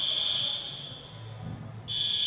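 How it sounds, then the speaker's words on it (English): A gym fire alarm sounds as a loud, continuous electronic tone that fades out for about a second mid-clip before returning at full strength, with faint background noise. "Do you guys hear the fire alarm?"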